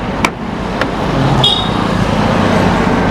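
A Maruti Eeco car idles steadily at a roadside dhaba while parked, a low continuous engine rumble with faint traffic noise and a brief high tone around it.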